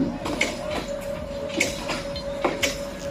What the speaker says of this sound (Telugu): ట్రైన్ అనేది ముందుకు వెళ్తూ ఉంది గార్లపేట వైపు